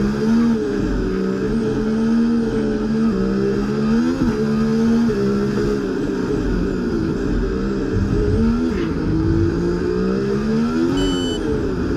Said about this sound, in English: DRS and ERS working at the same time, and you can see just how fast the car goes.